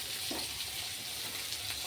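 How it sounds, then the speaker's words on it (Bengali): Dried fish frying in a pan with garlic, onion and ginger paste, a faint continuous hiss of sizzling oil for a moment. "এখন শুকনো মাছটা দিয়ে দেব মানে একসাথে ভাজা করছি আমি"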